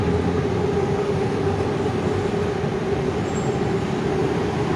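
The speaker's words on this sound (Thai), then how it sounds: "รถไฟฟ้าวิ่งอยู่ข้างบน" An elevated electric train runs overhead along a street in Thailand, giving a loud, steady, continuous rumble and roar with a faint high squeal, and no voices.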